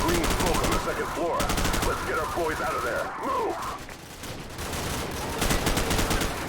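Rapid bursts of Call of Duty: Modern Warfare gunfire crackle loudly and continuously, mixed with game noise and excited voices talking over the shooting.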